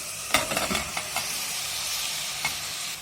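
Onion and red pumpkin fry in oil in a cooking pot, giving a steady, even sizzling hiss throughout. A few soft stirring clicks come near the start, with no voices.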